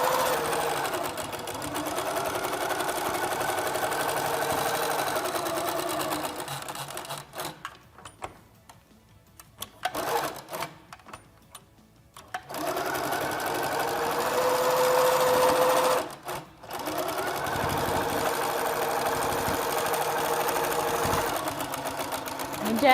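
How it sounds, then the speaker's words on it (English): A Little Rebel sewing machine stitching quilting lines runs in long steady whirring stretches, stopping and starting between runs, close and fairly loud, with occasional talk over it. "Again, the Little Rebel is perfect for this project. All of your quilting just glides right through the machine."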